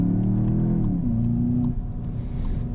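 A 2019 Volkswagen Jetta GLI engine pulling hard under acceleration from inside the cabin, a loud droning growl climbing in pitch, a quick drop at an upshift, then rising again, steady and unbroken.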